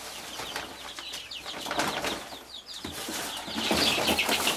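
Ducks being caught in a rural yard, with bursts of wing flapping and scuffling, intermittent squawks and rustling at moderate distance, fairly quiet overall.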